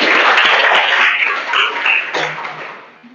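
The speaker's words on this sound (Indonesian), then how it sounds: "Beri tepuk tangan untuk kalian semua ya." A physics class applauding during a lesson on Hooke's law: loud, dense clapping that holds steady and then tapers off and fades near the end.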